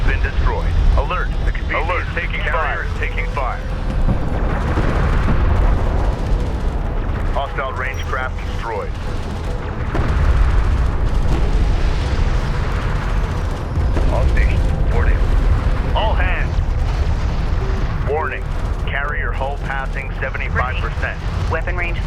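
Explosions and weapon fire from the real-time strategy game Homeworld: Deserts of Kharak, continuous booming rumbles and bursts layered under a clipped synthetic voice calling out alerts.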